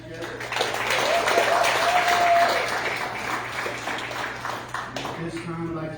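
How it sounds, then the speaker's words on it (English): Audience applause at a meet-the-candidates community event in Parker, a full crowd clapping that swells, holds for a few seconds and then thins out, with some voices mixed in. "Can I get a big round of applause"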